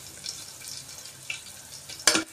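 Garlic fries in a pan for khichdi tempering, a faint, steady sizzle broken by a few light stirring scrapes and one sharper clatter near the end, with no talk.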